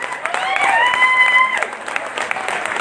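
An audience at a Telugu folk song performance applauds steadily, a dense wash of clapping with some crowd noise, while a few sustained singing or whistle-like tones rise over it partway through.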